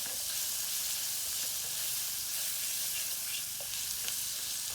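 A lubia polo mixture seasoned with salt and pepper sizzles steadily as it cooks in a pan, giving a loud, continuous hiss with occasional faint pops and stirring scrapes and no talking.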